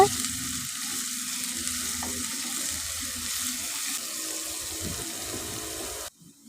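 Onions, chillies and curry leaves sizzle and crackle steadily in a hot pan for bitter gourd fry, with occasional stirring and scraping, then the sizzle drops away abruptly at the end.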